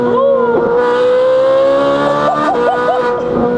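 A Ferrari 458 Italia V8 with a full IPE exhaust screams continuously at high revs, its pitch rising and dipping through rapid gear shifts, close and dominant.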